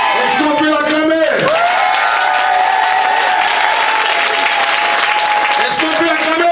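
A church congregation applauding and cheering for a prophet, loud sustained clapping and shouts filling the room, with an amplified voice and music carrying over the crowd.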